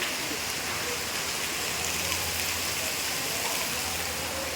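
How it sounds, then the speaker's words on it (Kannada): Heavy rain pours down in a dense, constant hiss, loud and close, with no pauses. "ನೋಡ್ಬೋದು ನೀವು ಮಳೆ ಎಷ್ಟು ಜೋರದ ಅಂತ"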